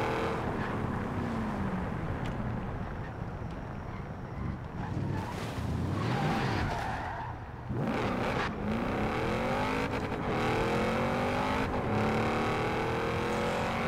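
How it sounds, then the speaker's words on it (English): An Audi RS7's V8 engine rumbles steadily while the car is driven, with rising and falling pitch sweeps as it revs through gears, loud and close throughout with a brief dip near the middle. "you can definitely hear that V8 purring."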